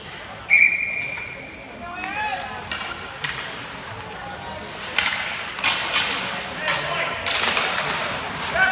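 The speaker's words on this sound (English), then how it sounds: "A whistle here, I think, for a hand pass" A referee's whistle blows once at a youth 16U elite ice hockey game, a sharp tone early on, followed by thuds of sticks and pucks on the rink under a commentator's voice.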